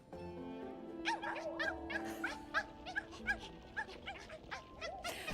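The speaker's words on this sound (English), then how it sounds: "now we get to listen to puppy sounds, because the fleas are basically dogs too" Puppy-like whimpers, yips and small barks from the fleas in the video game Silksong, a steady run of short high squeaks and yelps over a music bed, fairly close and moderately loud.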